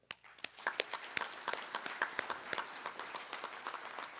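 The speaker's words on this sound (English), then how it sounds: "Gentlemen, a round of applause for him." Sparse audience applause at a Sons of the American Legion fall national meeting, a scattered run of separate claps from a modest crowd that stays fairly faint and uneven throughout.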